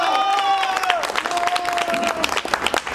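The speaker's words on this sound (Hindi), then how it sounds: "एक जोरदार तालियां हो जाए।" Lively applause and crowd noise at a Ramlila award function, dense clapping with a tonal whistle or held note over it, loud and close.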